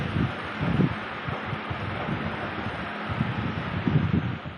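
An overhead ceiling fan runs indoors while someone dries their hair beneath it, giving a steady airy whoosh with soft low rustling bursts now and then.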